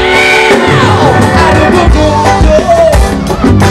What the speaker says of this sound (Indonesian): Oke, teriak sekali lagi buat kita.